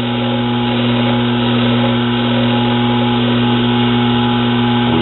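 Metal lathe turning a nut held in reversed chuck jaws, a steady, loud continuous motor hum and whine with no change over five seconds.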